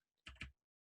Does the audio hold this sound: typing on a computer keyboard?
yes